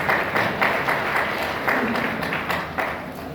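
An audience at an ashram seminar in Jaipur gives steady applause to welcome new participants, a close, dense run of clapping lasting a few seconds with no voices over it.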